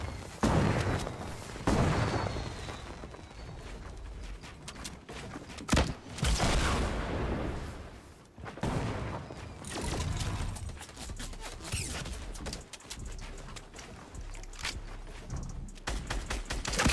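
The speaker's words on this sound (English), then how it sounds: "those are some perfect freaking grenade launchers" Grenade launchers fire repeatedly in Fortnite, heavy booms and blasts rolling one after another in a dense, loud barrage of explosions and shots throughout.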